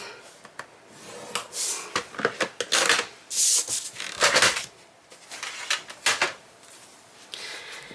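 Paper being scored with a tool for a Christmas book box and album project, giving repeated short scraping and rubbing strokes, close and fairly loud, with brief pauses between passes.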